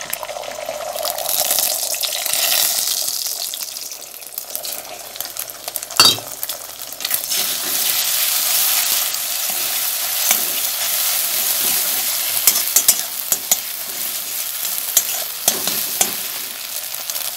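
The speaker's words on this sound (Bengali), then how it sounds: "কড়াইতে একটু তেল দিয়ে দিলাম। কড়াটা আমার গরম হয়ে গেছে, আমি ডিমটা দিয়ে দেবো।" Egg dropped into hot oil in a wok sizzles and fries loudly and steadily, with stirring scrapes throughout and no voices.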